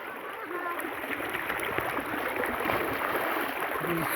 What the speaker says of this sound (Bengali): এই যে বান যাচ্ছে